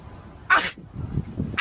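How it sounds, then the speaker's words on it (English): Someone sneezes once, a sharp sudden burst, followed by faint low murmuring and the start of another sharp noise at the very end. "There's someone fucking sneezing."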